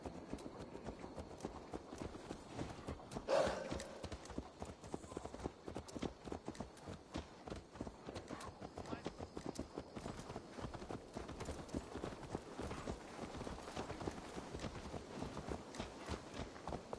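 Horse hooves clip-clop steadily in Assassin's Creed Valhalla, a quiet, continuous rhythmic walking gait that lasts throughout, with one brief louder knock near the start.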